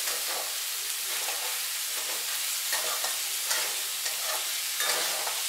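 Onions fry in a pan for kande pohe and are shaken steadily, producing a constant close sizzle with rustling and scraping throughout and no pause.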